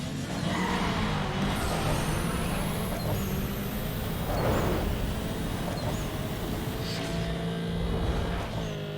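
An Audi A3 Quattro 3.2L V6 in a Need for Speed Underground 2 drag race, its engine droning steadily and loudly under game sounds, with faint shifts and a rising whine near the end.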